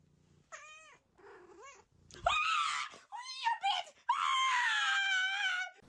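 A cat wails and caterwauls up close in loud, drawn-out cries, coming in several bursts that grow longer and stronger toward the end.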